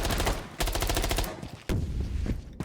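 Rapid bursts of MPX submachine gun fire in Rainbow Six Siege, two loud automatic strings followed by a shorter burst, crisp and close with no talk over them.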